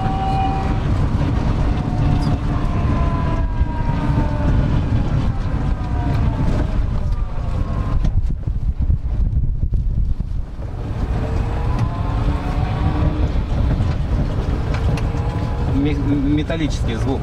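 A low-cost solar electric car's gearbox gives off a metallic whine that rises and falls in pitch over rushing wind and road noise, with people talking.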